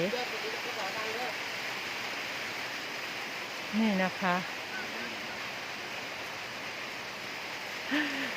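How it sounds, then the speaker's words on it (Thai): Rainwater floods a room with a steady broadband wash of flowing, pouring water that runs throughout, while someone speaks briefly over it. "น้ำมันระบายไม่ทันค่ะ น้ำไหล"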